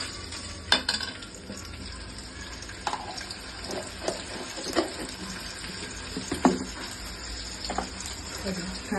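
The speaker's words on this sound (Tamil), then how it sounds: "இஞ்சி பூண்டு பேஸ்ட் அதில் சேர்த்துக்கணும். எண்ணெயில் போடணும்." Ginger garlic paste frying in oil in a pan, a steady sizzle broken by sharp scraping stir strokes that land a few times across the stretch, fairly close, with no talking.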